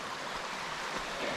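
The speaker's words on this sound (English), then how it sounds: "We camped at the old AT waterfall." Steady broadband rush of falling water from a waterfall beside a campsite on the Appalachian Trail, a constant close roar with no breaks and no voices.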